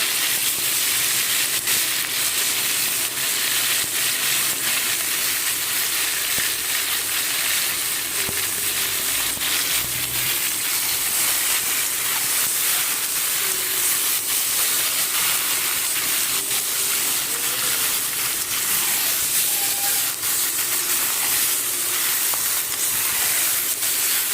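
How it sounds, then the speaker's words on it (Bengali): Chicken meat fries steadily in a spiced masala, a continuous sizzling hiss lasting the whole stretch at an even, moderate level with no talking over it. "ভালো করে প্রায় বিশ মিনিট মতো আমি ভাজিয়ে নেবো ভালো করে ভেজে নেবো মাংসটাকে"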